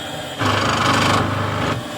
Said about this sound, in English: is the drill can actually go in and boom!